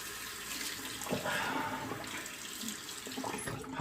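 Hot water runs steadily from a bathroom tap in a shaving setup, a close, continuous splashing rush with small shifts as hands move under the stream.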